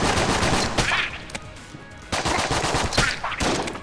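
A pump shotgun fired in the game Enter the Gungeon, several loud close blasts in quick bursts mixed with dense game effects, with brief quieter gaps between volleys.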